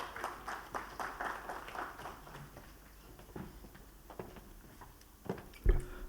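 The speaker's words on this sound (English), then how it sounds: "Please give him a round of applause." Sparse, fairly quiet applause from an audience at a national logistics summit in Delhi, welcoming a speaker to the stage, with scattered claps that thin out over several seconds, followed by a few soft thumps.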